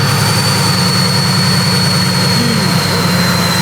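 A Mercedes-AMG GT's 800 hp engine drones steadily at close range, a deep continuous roar with a faint high whine, no voices.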